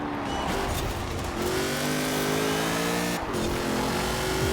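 Alfa Romeo 155 Q4 race car in Forza Horizon 4 driving hard, its engine loud and close with a steady droning whine that climbs through revs and shifts, plus a brief dip at a gear change.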